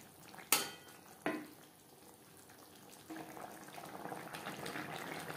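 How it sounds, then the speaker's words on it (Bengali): Rohu fish and flat beans are stirred in a pan for a curry: two sharp clinks of a utensil against the pan, then a soft, ongoing sizzle and scraping as the mix is turned. "শিমের সাথে মাছ বেশ ভালো করে মিক্সড করে দেব।"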